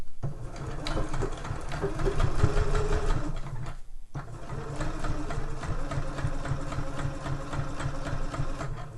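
A sewing machine stitches a zip tote pocket in a loud, steady, close run, with one brief stop midway before the stitching resumes.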